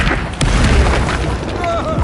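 A Confringo blasting spell goes off in a wizard video game as a loud, dense, rumbling boom that fills about two seconds.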